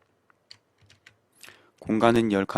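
A handful of sparse, soft keystrokes tap on a computer keyboard at irregular intervals, then a voice begins speaking loudly over the end.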